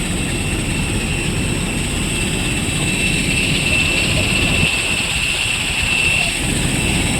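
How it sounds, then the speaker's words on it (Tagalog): Airplane engines drone steadily before takeoff in a broad, loud cabin roar with a high whine, heard from inside the plane and continuous throughout. "Ililipad na kami ng aeroplano."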